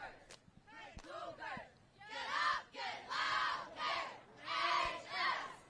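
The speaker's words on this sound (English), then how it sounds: "The crowd knows when to yell on brown, gold, white." Cheer squad and crowd yelling in unison at a 2023 cheer championship, rhythmic bursts of loud shouted chant spelling out the Cougars, repeating in waves after a few sharp claps and thumps.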